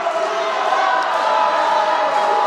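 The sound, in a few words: Sardinian fans applauding their football players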